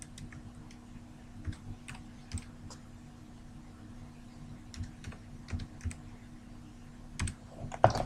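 Quiet, irregular tapping on a computer keyboard as an ISBN is entered, the key clicks coming in small bursts over a low steady hum.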